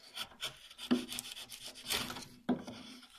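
A carving tool cuts into the wood of a spoon bowl, giving close scraping, rasping strokes with a few sharper bites standing out, no voices.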